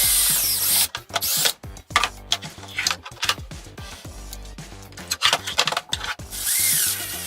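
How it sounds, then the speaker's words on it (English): A power drill whirs in short, repeated bursts close by, revving up and stopping several times as it bores a mounting hole on a car chassis. "we'll go ahead and drill the bottom hole"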